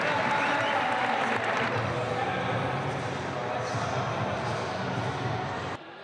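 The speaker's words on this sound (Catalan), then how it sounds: "els últims aplaudiments per al sènior A de Gabri Fuster" Applause from a crowd in a basketball club's sports hall for its senior A team, a dense, sustained roar of clapping with some voices mixed in, fading slightly before stopping abruptly near the end.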